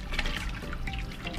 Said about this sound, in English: we added our coconut up in here. So I'm just gonna stir it around